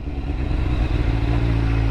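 A motorcycle engine drones steadily while riding, with a loud, continuous rumble and wind rush and no pauses or voices.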